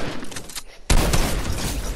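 Fortnite legendary infantry rifle fire: after a quiet, scuffling lull, an abrupt loud crack opens a dense run of shots and booming game noise that stays busy to the end.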